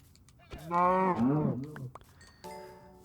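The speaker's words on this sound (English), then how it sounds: "Hi, cow." A Minecraft cow lets out one clear, close moo lasting about a second, followed by a short quieter game tone and little else around it.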